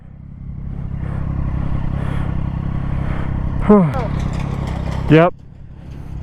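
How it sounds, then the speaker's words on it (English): A Yamaha R1 sportbike ripping past at a track or roadside, two quick rising-and-falling engine passes standing out over steady background motor noise, with a person saying a brief word. "that R1 sounds evil"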